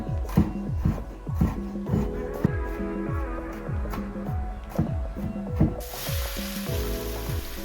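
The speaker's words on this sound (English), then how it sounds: "I'm going to allow the mushrooms to cook for about 5 minutes until they are fully cooked" Sliced mushrooms sizzle in a pan for a vegan mushroom gravy, a steady close frying crackle under repeated rhythmic scraping strokes of a utensil, with no talk.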